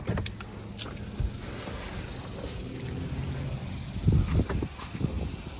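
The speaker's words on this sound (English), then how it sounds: "I don't know if you guys just heard that, but the car just locked." A 2024 Honda Civic Sport Hatchback locks itself as its owner walks away: a faint, short mechanical whir and a few soft clunks near the end, set against quiet outdoor background noise.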